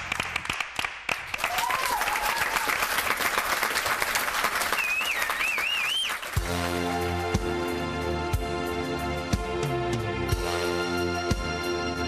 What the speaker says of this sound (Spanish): Un aplauso y a ustedes mañana nos vemos.